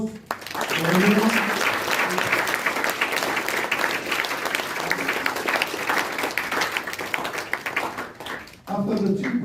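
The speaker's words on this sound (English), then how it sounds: "how about a big hand of applause for everyone?" Loud, sustained applause from a large audience at an opening ceremony, dense clapping filling most of the stretch before tapering off near the end, with voices briefly audible at the edges.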